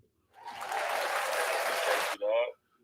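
A burst of crowd applause and cheering on a podcast, swelling in quickly, holding steady for about two seconds, then cutting off abruptly into a short tail.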